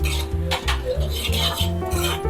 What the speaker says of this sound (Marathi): मिरची, तीळ, धने हे सगळं व्यवस्थित भाजून घ्यायचं ना?